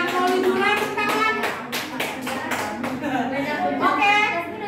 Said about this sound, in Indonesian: tepuk tangan untuk kita semua sekali lagi yang sudah bekerja keras